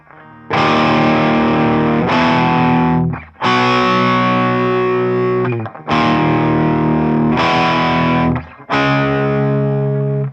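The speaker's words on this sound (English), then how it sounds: "when you start putting that distortion on" Heavily distorted electric guitar power chords on the bridge pickup, from a guitar lesson: four long sustained chords, each ringing loud and thick before cutting off abruptly into brief gaps.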